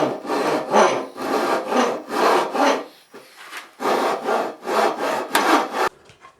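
Hand saw cutting through the wooden tenon shoulders of a scratch-built guitar neck, steady rhythmic back-and-forth strokes close up, with a brief pause midway and a quieter stop near the end.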